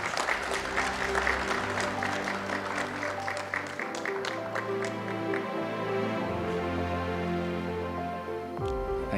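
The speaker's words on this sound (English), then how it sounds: "A big round of applause, please." Audience applause at a security conference in Thailand, a continuous spread of clapping from a hall full of people, layered under sustained background music tones, ending with a brief sliding sound.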